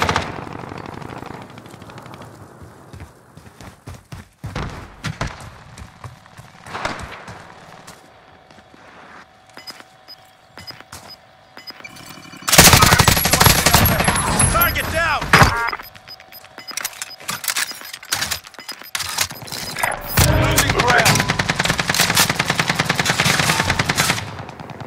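Automatic gunfire rattles in loud bursts during a Call of Duty: Modern Warfare battle-royale match, with a quieter stretch of scattered shots before heavy sustained volleys from mid-clip onward, mixed with in-game voice callouts.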